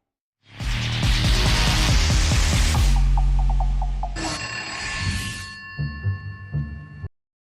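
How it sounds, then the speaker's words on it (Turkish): An old telephone bell ringing loudly and close: a rapid metallic trill that runs for a few seconds, then a shifting electronic ring tone, ending with a few clunky mechanical clicks. "telefonla arıyorsun beni?"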